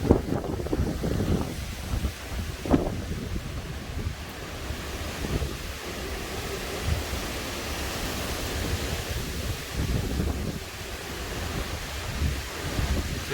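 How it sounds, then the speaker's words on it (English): Strong outdoor wind roars continuously during a thunderstorm with high winds, a loud broadband rush buffeting the microphone with gusty swells throughout and no talking. "There's a lot of wind out here."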